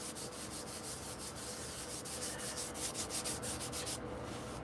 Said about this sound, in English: this is just an old piece of sandpaper that I've been using for years. Because all I do is I scrub up the paint with it.